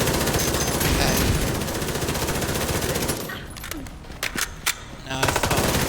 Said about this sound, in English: I'm using the SMG just because it's insane amount of bullets, insane amount of speed.